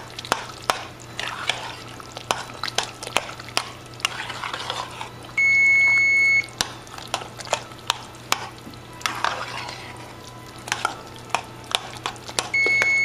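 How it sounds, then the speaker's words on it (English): A spoon stirs hamburger stroganoff with mushrooms in a pan, giving close, rhythmic scrapes and clinks over a low simmer, with brief electronic beeps in between. "So now I'm stirring this up, and that just has to heat."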